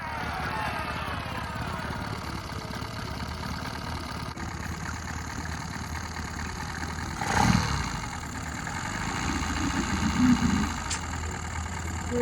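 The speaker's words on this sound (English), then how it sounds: "Our outboard started smoking, and we don't know why." A sailboat's outboard motor that is smoking and burning oil runs at a steady idle drone, swelling briefly louder midway before settling back.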